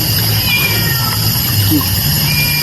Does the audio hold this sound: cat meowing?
yes